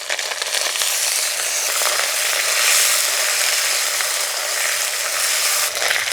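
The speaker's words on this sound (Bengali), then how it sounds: "আদা কাঁচা লঙ্কা একটু ভেজে নেব।" Ginger paste and slit green chillies frying in hot oil over whole spices, a steady, close, continuous sizzle with dense crackle throughout and no talk.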